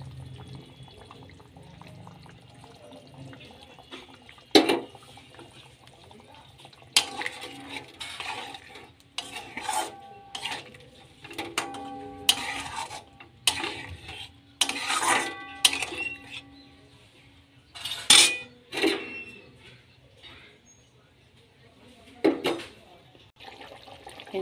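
Katla fish simmering in poppy seed paste gets stirred in a pan, with scattered sharp spoon clinks and scrapes against metal and quiet bubbling between them, close by.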